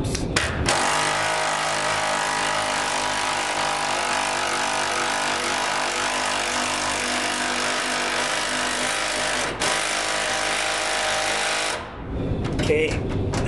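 Power tool or wrench driving the gas tank strap bolts on a 1968 Camaro, a steady continuous mechanical whir running loud and close for about eleven seconds before stopping, followed by brief clanks.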